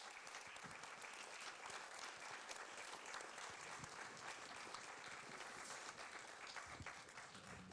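Steady applause from an audience fills the room after a call to thank two translators at a French-language talk, dense clapping holding evenly throughout with no voices over it.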